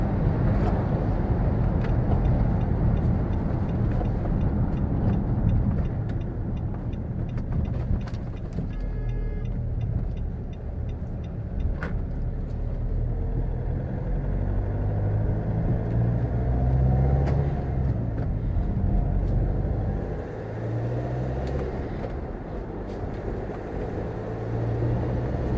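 A Nissan X-Trail with a hard-to-engage first gear drives along a village road, its engine and road noise forming a steady loud rumble inside the cabin, with occasional faint talk.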